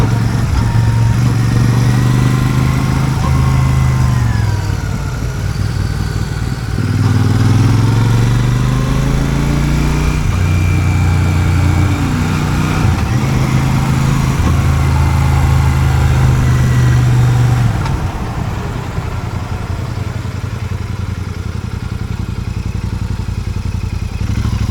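A Royal Enfield Super Meteor 650 rides a mountain road, its engine droning loud and steady with rising and falling pitch as it shifts and works through bends.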